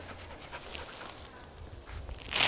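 A dog pants close by in quick, steady breaths, faint and soft, with a louder rustle at the very end.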